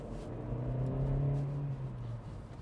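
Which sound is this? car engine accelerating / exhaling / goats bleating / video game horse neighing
car engine accelerating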